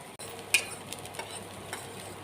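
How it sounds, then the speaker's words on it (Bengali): Tomato going into a frying pan for bread pakora and being stirred, with a soft steady sizzle and a few light scraping knocks, one sharper clack near the start. "এবার দিয়ে দিলাম টমেটো। সব কিছু খুব ভালো করে নেড়ে মিশিয়ে নেব।"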